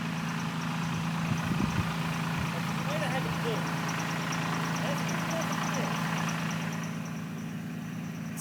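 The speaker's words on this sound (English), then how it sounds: "I hear the tractor." A tractor engine runs at a steady idle-like drone in the background, constant and moderately loud, while people talk over it outdoors.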